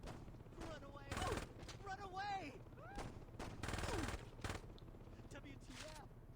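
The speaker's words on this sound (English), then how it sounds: "machine guns." Rapid machine gun bursts from Saints Row 2 rattle out in short, repeated volleys. Talk and other game sounds run under and between the bursts.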